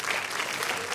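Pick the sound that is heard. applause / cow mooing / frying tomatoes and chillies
applause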